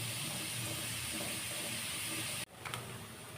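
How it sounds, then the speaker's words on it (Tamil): Vegetables frying in a pan for veg fried rice give a steady, loud sizzling hiss that cuts off abruptly near the end, then resumes more quietly with a brief clatter. "நல்லா ஃப்ரை ஆகட்டும்."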